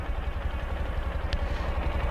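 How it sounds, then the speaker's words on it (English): A 2011 Ural T motorcycle engine idling steadily nearby, a low, even, rhythmic thumping with consistent exhaust pops and no voices. "All you need to do is just push this button, and it starts right up. Engine runs phenomenal."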